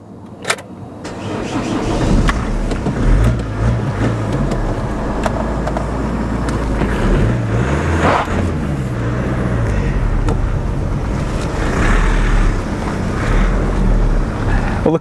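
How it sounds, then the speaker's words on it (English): A cheap Renault Megane driving slowly around a car park, its engine droning steadily under strong wind buffeting on the microphone, with no talk. "I'm just going to take it around this car park to see if it engages gear."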